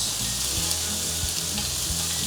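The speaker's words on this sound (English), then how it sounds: "And we'll be adding good amount of chilies. And we'll saute this." Chilies frying in a pan for a momo dish, with a loud continuous sizzle close by and a few dull thumps as they are stirred.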